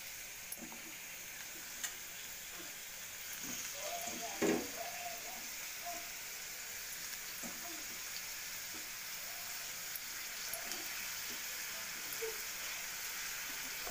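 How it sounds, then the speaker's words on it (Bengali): Potato and pointed gourd with onion, garlic and chilli frying in oil, heard as a faint, steady sizzle with occasional soft clicks and scrapes of stirring close by. "তেল দিলাম, আলু, পটল, পেঁয়াজ, রসুন কুচি, লঙ্কা কুচি সব একসঙ্গে দিয়ে দিয়েছি।"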